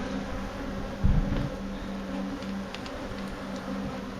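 African bees in a hive under a pool pump give a steady, dense buzzing drone, close and continuous, with a brief low thump near the start.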